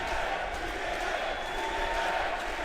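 A packed arena crowd at a TNA wrestling event roars continuously, a dense wall of cheering and chanting at steady high volume with no single voice standing out.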